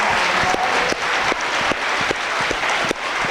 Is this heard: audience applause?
yes